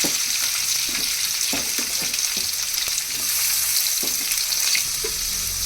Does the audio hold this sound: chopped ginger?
yes